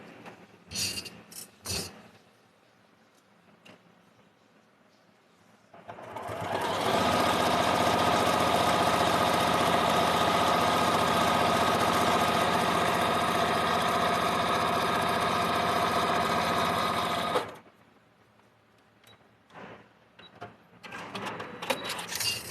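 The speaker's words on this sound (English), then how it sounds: "take it over to the sewing machine here" A sewing machine stitches continuously for about ten seconds with a steady whirring buzz, framed by quiet handling noises and small clicks before and after.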